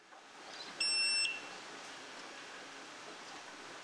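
A multimeter continuity check on parts of an 1890s electric shock therapy device gives a single steady, clear beep lasting about half a second, over faint background hiss.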